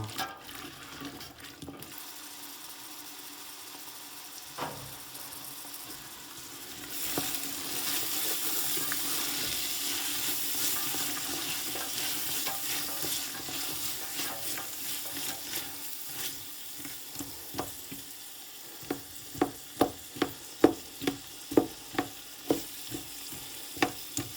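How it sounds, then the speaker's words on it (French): Sliced pepper and chicken frying in butter and oil, a steady close sizzle that swells after a few seconds, with stirring scrapes and sharp clicks of a utensil against the pan toward the end; no one speaks. "on vient tout faire chauffer dans un peu de beurre et d'huile"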